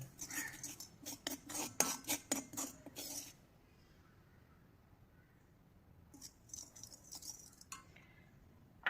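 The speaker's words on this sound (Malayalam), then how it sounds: "ഈ ഒരു ടൈമിലാണ് നമ്മളിതിലേക്ക് നെല്ലിക്ക ജ്യൂസ് ഒഴിച്ച് ഇത് മിക്സ് ചെയ്യുന്നത് കേട്ടോ" Homemade herbal hair dye being stirred after gooseberry juice is poured in, a quick run of scraping, clinking strokes of a spoon against a bowl, close and fairly loud, then a pause and a few softer scrapes.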